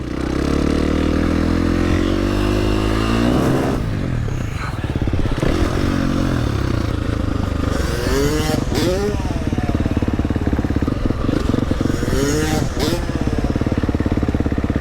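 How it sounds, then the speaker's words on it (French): A freestyle motorcycle revs hard at a jump ramp, its loud, close engine climbing and falling through repeated throttle bursts, with scraping and clattering and people talking over it. "Je mets le même coup de gaz"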